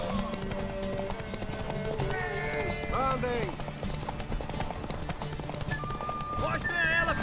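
Horses gallop in The Witcher 3, their rapid clip-clop hoofbeats running steadily under shouted voices and music.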